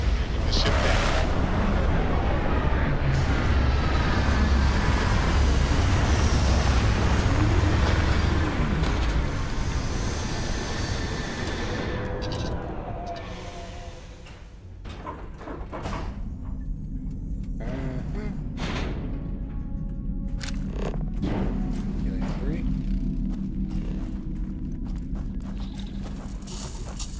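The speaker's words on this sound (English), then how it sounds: "Taking the ship down." A spaceship touching down in the Starfield video game: a loud, roaring, broadband engine rumble dominating the first half, gradually fading to a quieter mechanical hum and scattered clanks as the landing settles.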